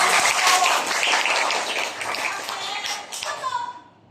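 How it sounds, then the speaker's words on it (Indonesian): A burst of applause from a small group, steady clapping that gradually thins and fades out after a few seconds. "kasih tepuk tangan dong lagi buat diri sendiri"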